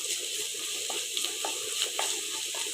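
Ginger garlic paste frying with browned onions in a pan on a low flame for a cluster beans kurma, a soft continuous sizzle with occasional light taps and stirring sounds.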